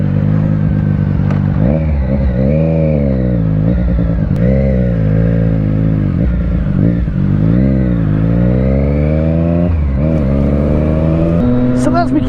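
Motorcycle ridden on the road, loud close engine note rising and falling through gear changes and repeated accelerations, with heavy wind rush throughout.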